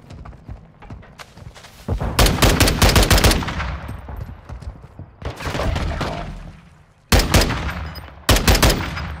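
Video game gunfire crackles in several rapid automatic bursts, separated by short pauses, loud and close against a quieter background.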